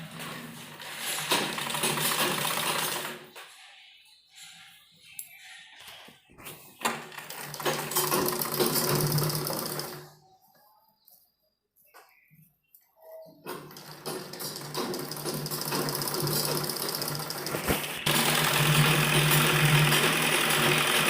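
A sewing machine stitches a baby frock in long steady whirring runs, close and fairly loud, with quiet pauses in between where fabric is handled.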